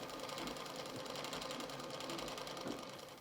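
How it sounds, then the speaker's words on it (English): A Singer Featherweight sewing machine running on a treadle winds a bobbin with a fast, steady mechanical whir and rapid needle ticking, quiet and even throughout with no speech. "The needle will continue to move up and down as you wind a bobbin, and this is normal for your feather treadle."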